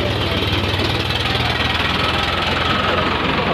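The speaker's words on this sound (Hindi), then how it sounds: "तीन सिलेंडर ट्रैक्टर" A three-cylinder Farmtrac 60 tractor engine runs at a tractor market in Fatehabad, Haryana, giving a loud, close, steady knocking idle with a rough low throb, while someone talks over it.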